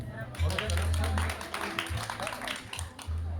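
An audience at a rural women's association cooking contest in Walewice claps steadily throughout, a continuous patter of many hands heard under a speaker's amplified voice.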